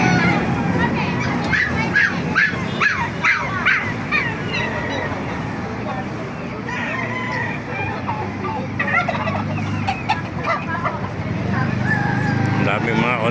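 Poultry at a live animal market in Baliuag, Bulacan, including Chinese chickens, turkeys, ducks and geese, make dense, overlapping gobbling and clucking calls close by, with people talking throughout amid the busy crowd.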